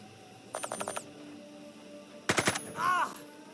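Gunfire in the tactical game Jagged Alliance 3: a rapid burst of four or five shots, then a second tight burst of shots a little later followed by a brief ringing sound effect, heard alone without talk.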